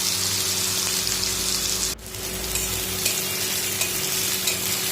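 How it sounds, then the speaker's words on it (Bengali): Chopped onions fry in a pan with a strong, steady sizzle and the scrape of stirring, briefly dipping midway before the hiss resumes, close and with no talking. "পেঁয়াজটা ভালোভাবে ভাজা ভাজা হয়ে গেছে"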